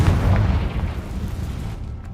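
A Confringo fire-spell explosion in the Hogwarts Legacy video game, a loud, deep, rumbling boom that fades over about two seconds with no talking.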